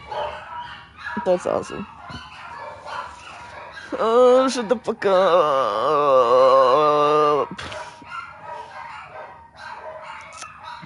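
Pet dogs bark and yip in loud bursts close by, with a sustained howling whine in the middle, while people talk over and around the noise.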